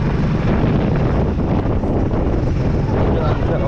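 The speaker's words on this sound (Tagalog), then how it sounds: "Walang umaharang kaya malakas yung hangin dito sa farm." Strong typhoon wind tears across an open, unsheltered farm, a loud, steady broadband roar with constant gusting rumble and no pause.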